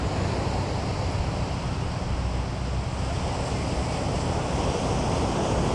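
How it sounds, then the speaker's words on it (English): Ocean waves breaking on a beach in a steady, loud wash of surf, with constant rushing roar and wind noise throughout. "And just listen to the waves"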